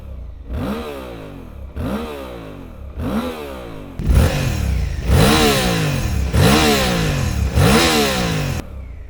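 A 2025 Suzuki V-Strom 800RE parallel-twin engine revs hard in repeated bursts, about seven throttle blips rising and falling, growing louder and deeper in the second half, with no talking.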